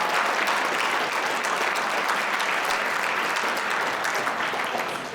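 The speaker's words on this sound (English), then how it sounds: "Can we please give one more round of applause for him?" A conference audience gives a sustained round of applause for a keynote speaker, a dense, even wash of many clapping hands that fills the hall and begins to fade toward the end.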